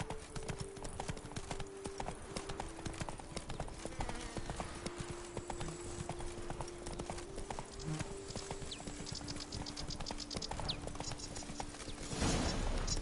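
Roach the horse clip-clops steadily on hard ground in The Witcher 3, with a dense, continuous run of hoofbeats over a sustained musical drone that swells near the end.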